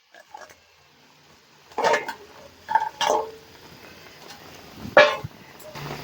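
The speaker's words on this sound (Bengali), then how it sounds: "ভেজে রাখা পিঠেগুলো এবারে ছেড়ে দিচ্ছি।" Fried palm-fruit pithas dropped into thin sugar syrup in a pan and stirred, giving a few short clattering bursts of utensil against pan spaced apart, with quiet gaps between them.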